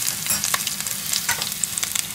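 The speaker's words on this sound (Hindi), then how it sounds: "ये सारी वेजिटेबल्स जो मैंने कट करके रखी थी इनको ऐड करूँगी, और इनको हल्का सा सिर्फ स्टोव फ्राई करूँगी" Chopped vegetables stir-fried lightly in oil for Singaporean rice, a close, steady sizzle with brisk stirring scrapes and small crackles, briefly and without voices.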